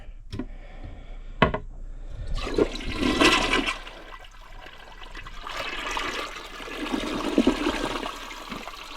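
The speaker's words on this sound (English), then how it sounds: "so what I did was I just filled the bowl up with water" A toilet in a DIY farmhouse tiny house flushes with a sharp clunk, then water rushes and swirls before refilling the bowl with steady trickling and gurgling, close and clear.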